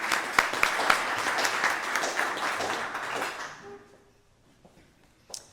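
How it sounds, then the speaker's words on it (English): A Rotary club meeting audience applauds, a dense crowd of clapping hands that carries on for about three seconds and then fades out into near quiet, with a single stray sound at the end. "So let's give Brian and Candy a round of applause"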